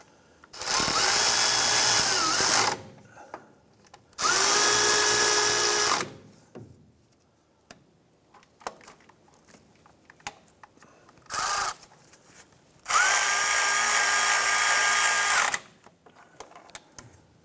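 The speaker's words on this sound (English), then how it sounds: "Let's go ahead and snug those bolts down." A power tool snugs down the bolts on a serpentine belt tensioner on a 1994-2004 Chevrolet S10, running in three loud, steady whirring bursts with one brief blip between them and quiet gaps in between.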